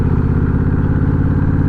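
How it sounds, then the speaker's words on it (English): A Honda Rebel 1100 motorcycle fitted with an aftermarket Coffman's exhaust idles close by with a loud, deep, steady throbbing pulse. "I love the sound of this Coffman's exhaust"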